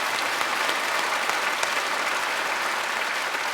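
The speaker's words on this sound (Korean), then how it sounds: "박수하겠습니다." A large church congregation at a special early-morning service applauds a women's choir, giving dense, sustained clapping that fills the hall evenly for several seconds with no speech.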